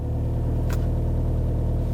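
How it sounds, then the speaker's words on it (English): A car engine idling low and steady while moving off with too little acceleration, a deep even rumble with no rise in revs and only a short higher hiss partway through. "Not enough is going to sound a lot like this"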